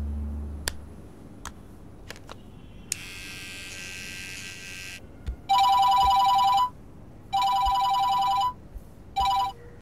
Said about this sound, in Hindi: कुछ देर से एक ही नंबर से कॉल पे कॉल आ रहे हैं।